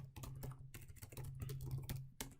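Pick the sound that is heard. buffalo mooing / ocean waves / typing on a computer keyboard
typing on a computer keyboard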